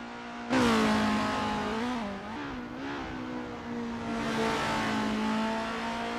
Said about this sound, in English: Renault 99 is burning rubber like there's no tomorrow.